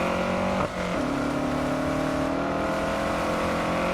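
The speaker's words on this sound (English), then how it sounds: "Or the gravelly tones of a Lancia Delta." The gravelly engine of a Lancia Delta in Test Drive Unlimited Solar Crown, heard up close as a steady drone that briefly dips, then settles into a slowly rising rev.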